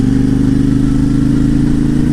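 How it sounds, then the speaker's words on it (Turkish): A CFMoto 450 MT motorcycle runs in second gear at light throttle with a jerky throttle fault. The engine gives a loud, close, pulsing drone with a fine rhythmic flutter and no talking. "Çok hafifçe gazı açtığımda motosiklet ileri geri sarsılıyor."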